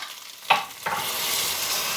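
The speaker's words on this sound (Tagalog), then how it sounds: "So, mag-add na tayo ng chicken broth." Chicken broth poured into rice sautéing in oil for arroz caldo, a sudden splash followed by a loud steady hiss and sizzle close up.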